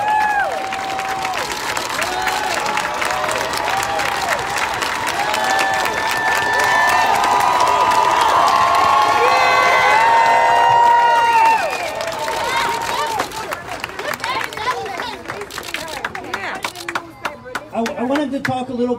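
A protest crowd claps and cheers for a commissioner at a Black Lives Matter rally, a dense, sustained wash of applause and shouting voices that swells midway and then thins into scattered claps and calls.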